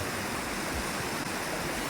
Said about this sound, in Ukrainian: Це ось там далі в горах тають сніги і ця вода збігає по цій річці.